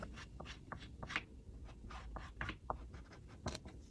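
Tailor's chalk scratches across fabric in short, quick strokes, close and faint, with a soft, uneven rhythm as lines are drawn.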